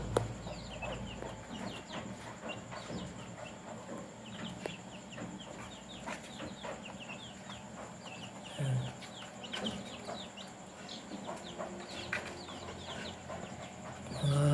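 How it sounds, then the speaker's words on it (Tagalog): Backyard farm flock of Muscovy ducks with five ducklings alongside chicks, giving steady overlapping clucks and soft peeping calls against a continuous outdoor hum, moderately near and without talk. "Saka meron tayong Muscovy ducks na 5 mga sisiw."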